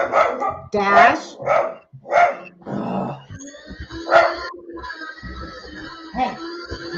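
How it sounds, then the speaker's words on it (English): A dog barks and yips in short repeated bursts, close by, mixed with overlapping talk. "Hey, no barking."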